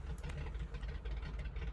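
Engine number 2 of a Grumman JRF-6B Goose, a radial engine, coming to life in MSFS 2020: a dense low rumble with choppy, uneven pulses, loud and close for a brief stretch.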